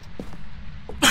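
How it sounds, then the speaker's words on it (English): A single sneeze bursts out loud and close at the very end, after a few faint breathy sounds over quiet room noise during Phasmophobia play. "I'm about to sneeze."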